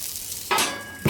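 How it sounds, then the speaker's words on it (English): Thick onion slices hit a hot outdoor griddle with a sudden broadband sizzle that holds steady, then a second sharp burst near the end, with no talking. "Let's get the onions on first, because they're going to take a while."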